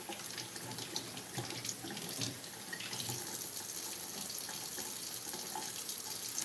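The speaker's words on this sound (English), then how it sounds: "trying to give a little rinse to these mushrooms" Tap water runs into a sink to rinse mushrooms while making vegan fried rice, a steady, moderately quiet splashing stream with small spatters from the mushrooms being moved under it, no talking.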